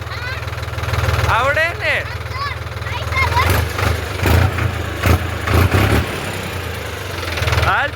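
A tractor engine idles steadily at a low, even throb through the whole stretch, with people talking over it close by.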